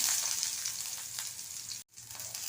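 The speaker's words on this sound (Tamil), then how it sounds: "ஆயில் ஹீட் ஆயிடுச்சு நம்ம பெரிய வெங்காயத்தை சேர்த்துடலாம்" Onions for a Salem thattu vadai set hiss and sizzle steadily in hot oil, a broad, close frying crackle that breaks off into a short silence near the end before resuming.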